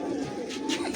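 A Ferozpuri pigeon held in hand coos softly and continuously, with low rolling murmurs and a few brighter rustles nearby.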